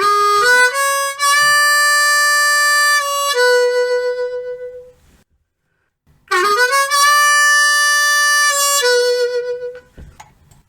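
A blues harmonica phrase, with draw notes bent down. It is played once slowly with long held notes, then after a short pause again faster, up close and loud with no talking.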